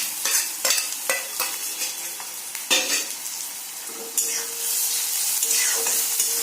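Garlic and dried chili frying in hot oil in a pan for an Assamese fiddlehead fern stir-fry, a steady close sizzle with intermittent scraping stirs and occasional louder spatters.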